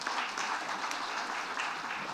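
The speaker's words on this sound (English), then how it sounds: "Big round of applause, guys." Conference audience applauding after a PMI South Asia update, a steady, even wash of many hands clapping, somewhat distant and fairly soft, with no voices over it.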